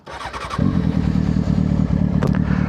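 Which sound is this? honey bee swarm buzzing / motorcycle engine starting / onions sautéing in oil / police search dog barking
motorcycle engine starting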